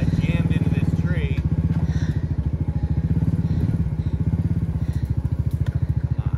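An ATV four-wheeler engine pulling a log in the woods chugs loudly and steadily at a fast, rough idle throughout, with people talking briefly over it.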